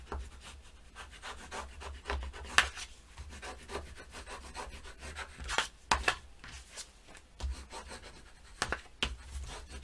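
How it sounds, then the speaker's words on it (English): A bone folder burnishes score tape on paper for a handmade mini album. The sound is a quiet, steady rubbing and scraping close by, broken by a few sharper strokes, with no talk. "now we'll take a bone folder and burnish real well"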